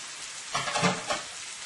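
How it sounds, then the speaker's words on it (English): A handful of fresh spinach tumbles into a pan of creamy Alfredo sauce with chicken and tortellini, setting off a brief burst of sizzling and bubbling that swells and then settles back to a steady low fry. "Now let's add our spinach"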